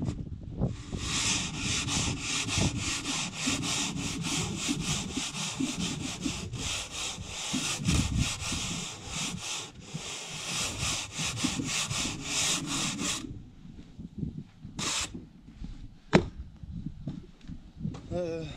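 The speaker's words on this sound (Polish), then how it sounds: "Pokażę Wam tarką do styropianu." A cheap hand rasp scrapes back and forth over styrofoam insulation on a house building site, a dense run of quick, rough rubbing strokes that stops near the end, followed by a few isolated scrapes.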